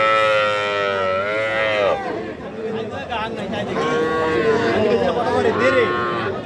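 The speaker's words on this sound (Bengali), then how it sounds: "এই যে এইটাও কিন্তু একটা ষাঁড় বাছুর" A bull calf at a busy cattle market lows in long, loud moos, one after another, close by, with people chattering in the background.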